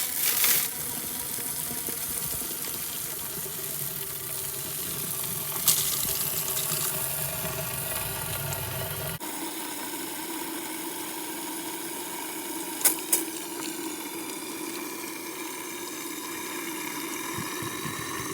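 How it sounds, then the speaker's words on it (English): Water pours steadily into a one-gallon jug set inside a self-wicking container, a continuous close rushing and gurgling fill that shifts in tone partway through, with a couple of small knocks near the end. "As we start filling this up, this 1 gallon jug starts getting filled with water."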